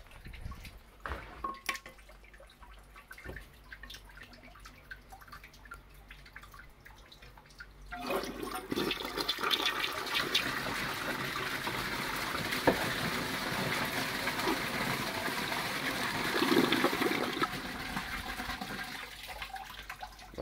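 A 1987 Murray Savoy toilet flushes a golf ball down: after some faint drips, a loud rushing whoosh of water starts suddenly and keeps churning steadily before tapering toward the end.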